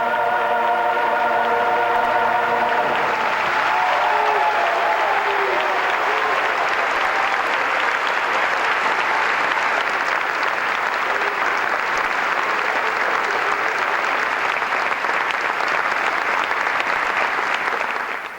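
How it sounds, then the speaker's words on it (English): Roman concert audience applauding a choir in 1998, loud sustained clapping from a large crowd that rises over the last sung notes and continues as a thick, even roar of hands. "With each successive song, the applause and the bravos became increasingly louder"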